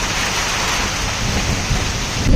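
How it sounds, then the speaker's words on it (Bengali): Heavy rain pouring down with a deep rolling thunder rumble underneath, a loud continuous hiss and roar that swells slightly at the end, no voices. "বেশ ভালোই বৃষ্টি হচ্ছে।"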